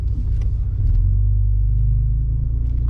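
A deep, loud Gen 2 Ford Raptor pickup truck exhaust with its QTP cutouts opening rumbles steadily, swelling fuller and throatier about a second in, then holding a heavy idle burble.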